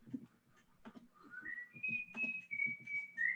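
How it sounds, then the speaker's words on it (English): Faint melodic whistling carries a tune in the background, with sustained notes and slides rising in pitch, along with low murmuring, taps and knocks. "If you're liking the whistling you're hearing,"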